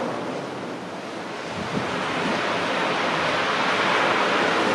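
Strong wind roars continuously over sea waves at a capsized sailboat rescue, a loud broadband rush with buffeting gusts that swells slightly toward the end, no voices.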